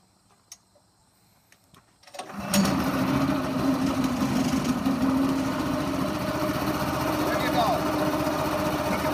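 A recoil-started topsoil screener engine fires up after a couple of seconds of near silence, then runs steady, smooth and fairly quiet at close range, with a voice over it.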